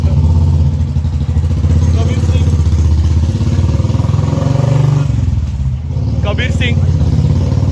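A loud motorcycle engine roaring steadily while being ridden, close and continuous, dipping briefly before resuming, with someone talking over it.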